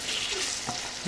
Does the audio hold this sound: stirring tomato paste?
yes